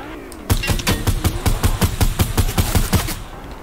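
Gunfire in the video game Fortnite comes as a rapid automatic burst of about fifteen sharp shots in an even rhythm, loud and close, with no one speaking.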